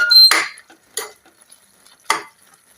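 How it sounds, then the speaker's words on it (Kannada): Ghee being stirred into carrot halwa in a pan: three separate scraping, sizzling strokes of a spoon against the vessel, close and fairly loud, with quiet gaps between them. "ಈಗ ತುಪ್ಪ ಹಾಕಿ ಮಿಕ್ಸ್ ಮಾಡಬೇಕು ಚೆನ್ನಾಗಿ."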